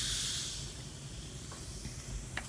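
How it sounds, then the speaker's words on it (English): Clay mask mixed with apple cider vinegar fizzes in a soft, steady hiss, loudest at first and then settling low, with a couple of faint clicks near the end. "You can hear it bubbling"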